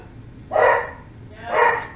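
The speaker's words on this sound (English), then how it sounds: "And there are the dogs." Dogs bark indoors during a quilt-pinning session, two separate barks about a second apart, fairly close and loud above a quiet room.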